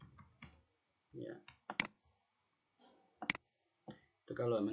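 Sharp clicks of typing on a computer keyboard come in short separated bursts between stretches of speech, with people talking throughout.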